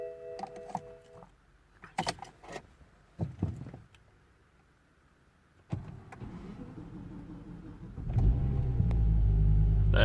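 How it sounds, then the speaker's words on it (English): A BMW E60 sedan starts up after a new battery is installed and registered: scattered clicks and whirs from the car, a quiet pause, then the engine cranks and settles into a rising, steady idle rumble, with no talking. "let's kind of start the engine"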